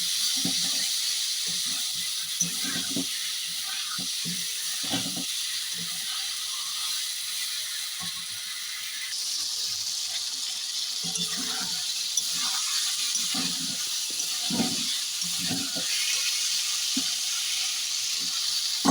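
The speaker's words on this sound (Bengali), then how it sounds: "পটল আর আলু একসঙ্গে দিয়ে দিলাম সেই মশলার মধ্যে পটল আর আলু দিয়ে একটু নাড়াচাড়া করে নেবো" Potato and pointed gourd sizzle steadily in a hot spice mix, a continuous close frying hiss with soft stirring scrapes and clicks throughout.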